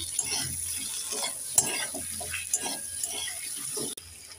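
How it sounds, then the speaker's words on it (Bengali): Chopped tomatoes with turmeric and chili powder being stirred and fried in a pan: a soft sizzle broken by irregular scrapes and knocks of a spoon, close and moderately loud, no voices. "একটু নেড়ে চেড়ে দিয়ে দেব।"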